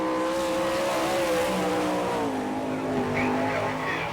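A sprint car, the number 12 Apple Chevrolet, runs a qualifying lap at the All Star Circuit of Champions Winternationals in Gibsonton, Florida, its engine droning steadily at a distance with rising and falling pitch as it circles the track.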